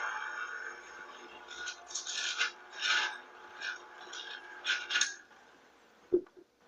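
An electric mixer beats flour into pound cake batter at medium speed, giving a rough, scraping whir that swells and eases in uneven pulses, with a sharp knock near the end.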